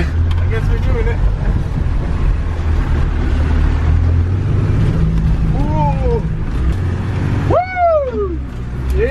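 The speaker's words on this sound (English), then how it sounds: "Drifting in a defender" Land Rover Defender drifting off road, with a loud, continuous engine roar, wind buffeting and rough rumble, overlaid by excited whoops and cheers from the driver.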